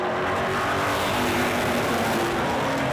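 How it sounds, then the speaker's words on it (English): Race cars at Hythe Motor Speedway roaring to life at the start of a race: a dense, loud, continuous wash of engine noise from several cars at once, with no gaps. "Cars will roar to life"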